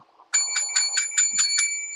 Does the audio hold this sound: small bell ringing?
yes